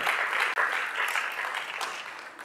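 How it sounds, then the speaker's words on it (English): Audience applause for the guests at the close of a food-media panel discussion: dense, continuous clapping that stays even for a couple of seconds and fades slightly toward the end. "please join me in a round of applause for our incredible guests"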